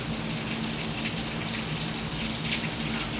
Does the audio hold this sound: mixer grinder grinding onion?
no